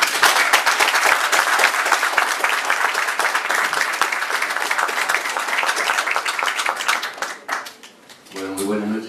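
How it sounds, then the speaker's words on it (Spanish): An audience applauds Martín Guevara, brother of Che Guevara, at an evening talk: dense, sustained clapping for about seven seconds that thins and fades near the end, followed briefly by a voice. "Un fuerte aplauso para él."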